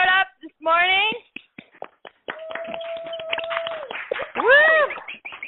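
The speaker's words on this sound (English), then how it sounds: "Round of applause for everyone who showed up this morning." Scattered hand clapping from a small group at a morning motivational call, with sharp separate claps, whoops and excited voices around it, plus a steady sustained tone in the middle.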